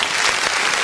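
A church congregation claps in dense, steady applause for a brief moment, close and fairly loud.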